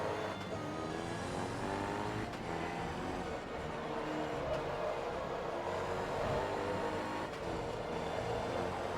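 A race car engine in Forza Motorsport 2 drones steadily and loudly throughout, with continuous revving and gear-shift changes in pitch and occasional tire noise, close and unbroken.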